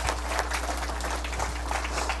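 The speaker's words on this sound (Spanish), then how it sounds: "Un fuerte aplauso para recibir al ingeniero Alfredo Mamani," Audience applause welcoming an engineer to the stage at an energy and petrochemical forum in southern Peru, a steady, even wash of clapping that stays fairly quiet for about two seconds.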